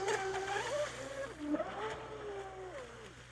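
A Traxxas Spartan SR RC boat with a 3S setup and two SMC 5000 batteries runs on water, its electric motor whining and sweeping in pitch as it speeds and turns, close and continuous.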